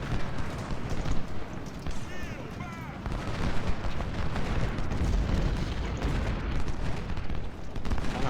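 Artillery booms and rifle fire rumble through a Civil War strategy battle, a sustained dense barrage of overlapping shots and blasts, with faint speech mixed beneath the din.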